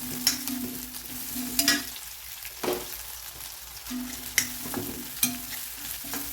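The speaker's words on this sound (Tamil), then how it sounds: "இந்த மாதிரி நல்லா டீப்பாக ஃப்ரை பண்ணிக்கோங்க" Onions and curry leaves fry deeply in a pan for egg kulambu. A steady low sizzle runs under repeated sharp scraping clinks from the stirring spoon, heard close up with no talk.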